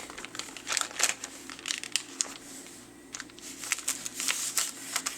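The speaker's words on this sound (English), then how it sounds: "Wrap that tape around both sides." Adhesive tape being wrapped around both sides of paper while assembling an ephemera folio, giving close, irregular crinkling and crackling bursts with brief pauses between them.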